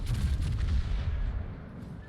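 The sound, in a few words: HMS Hood battleship secondary guns firing, naval video game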